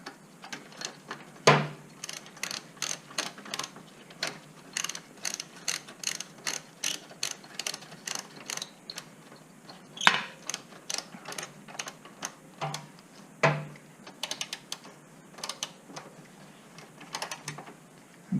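A ratchet tightens the rear axle of a Kawasaki Ninja H2 in repeated close, crisp bursts of clicking. A few heavier knocks and pauses break up the rhythm, and no one speaks.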